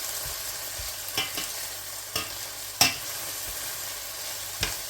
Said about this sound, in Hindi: ब्राउन करके इसमें टमाटर डालेंगे। तो हल्का सा इनको हम फ्राई करेंगे।